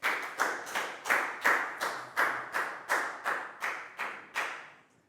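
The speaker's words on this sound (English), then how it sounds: "High five and a big round of applause for Pat" A class of pupils claps for a classmate in a Year 4 maths lesson, a dozen sharp, evenly spaced bursts of clapping that fade at the end, with no talk over them.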